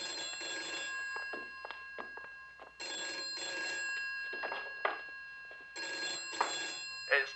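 An old-style telephone bell rings in repeated bursts, three long trills separated by pauses, fairly close in an indoor room, with faint rustling and movement between rings.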